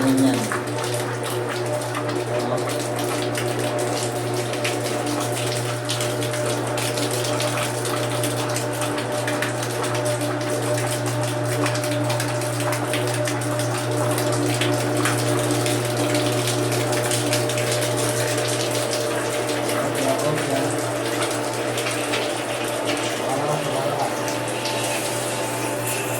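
A pool pump primes through its air bleeder valve, with water rushing and gushing in a steady, loud, continuous flow under a constant low motor hum that holds unchanged throughout.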